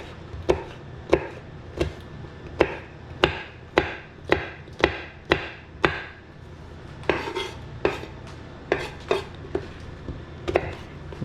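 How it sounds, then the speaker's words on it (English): Kitchen knife blades sharpened by hand, a run of crisp, evenly spaced metallic scrapes and clinks, about a dozen strokes in steady rhythm, close and loud in a quiet kitchen. "Sharpening my blades."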